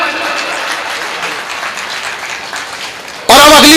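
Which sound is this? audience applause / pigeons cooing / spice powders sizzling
audience applause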